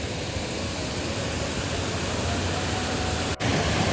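Water rushes steadily at Khamboli Dam, a dense broadband roar that holds constant and close throughout, with one brief dip near the end.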